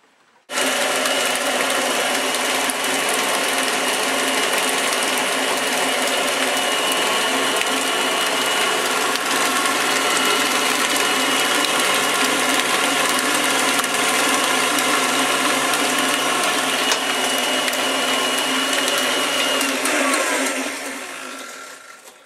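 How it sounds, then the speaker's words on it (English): An electric mixer beats oatmeal toffee cookie dough with vanilla, a steady loud whirring drone that runs unbroken for about twenty seconds before winding down, with no talking. "Now we mix this together until it becomes smooth."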